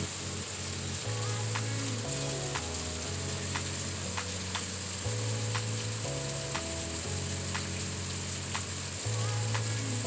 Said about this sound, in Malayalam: ഇടക്കിടക്കൊന്ന് ഇളക്കി കൊടുക്കുക, കരിയാതെ ഇളക്കി കൊടുക്കുക.